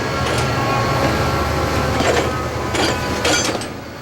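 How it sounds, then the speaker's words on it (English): A train trundles heavily over a steel bridge with a continuous rumble and scattered metallic clanks and clatters, close and fairly loud. "Mavis when she trundles over the steel bridge."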